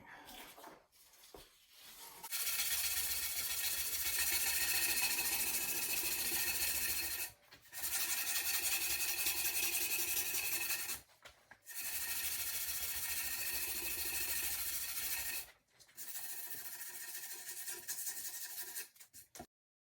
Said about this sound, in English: That's the sanding.